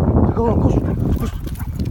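Dog in a forest gives a few short yips and whining barks close by, mixed in with excited shouting from people nearby.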